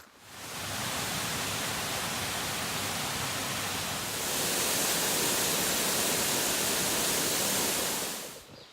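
Long Creek Falls on the Appalachian Trail gives a continuous, even rush of falling water, which swells slightly louder midway and then fades out at the end.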